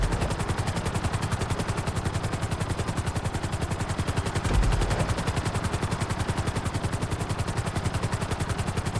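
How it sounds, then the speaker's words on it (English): Helicopter in the GTA 5 video game, a loud continuous rapid rotor chop with a fast steady pulsing beat, heard alone without talk. "Bring the helicopter down gently onto the helipad."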